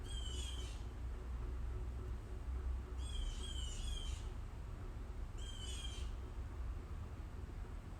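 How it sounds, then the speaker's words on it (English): Three bursts of high, fluttering bird calls spaced a few seconds apart, fairly faint over a low steady background hum. "The birds wanted to participate in the message, so I just wanted to let them be heard."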